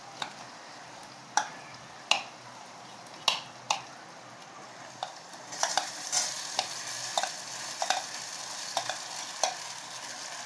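A spoon stirs soaked sabudana in a pan for fasting khichdi, giving sharp, spaced clicks and taps against the metal, then a denser run of scraping knocks with a soft sizzle-like hiss underneath.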